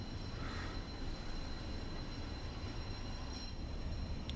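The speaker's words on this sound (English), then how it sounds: "It does sound like the brakes are dragging." A train in Train Sim World 5 on the Mittenwaldbahn between Innsbruck and Garmisch-Partenkirchen rolls with its brakes dragging, giving a constant low rumble with a faint squeal that continues without a break.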